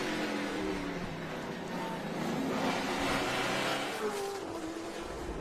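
On-board sound from a Trans Am TA2 race car at a street-circuit grand prix: a steady, loud engine roar that rises and falls with throttle and braking, wavering pitch sweeps, with no voices over it.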